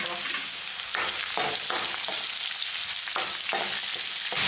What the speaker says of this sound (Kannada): ಮೆಣಸಿನ್ಕಾಯಿ ಹಾಕಿ ಸ್ವಲ್ಪ ಫ್ರೈ ಮಾಡುವ.